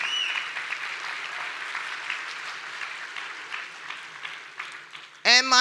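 A small audience claps steadily through a stretch of applause at a body-composition talk, moderately loud and unbroken, before a voice begins speaking just at the end.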